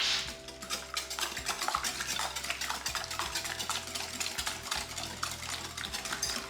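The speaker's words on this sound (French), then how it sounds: "je mélange les œufs et du sucre" Eggs and sugar are mixed in a bowl for a chocolate cake, giving rapid, continuous scraping and clinking of a utensil against the bowl, close and steady throughout, with no talking.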